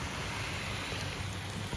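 Heavy storm rain pours steadily outside a window, a dense continuous hiss with a low rumble beneath, unbroken and fairly loud throughout.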